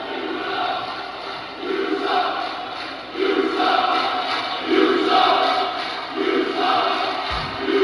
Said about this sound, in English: And the Dragonheart getting a negative response here from the MVWF crowd.